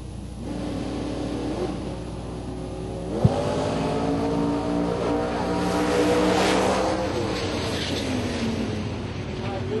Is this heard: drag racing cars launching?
yes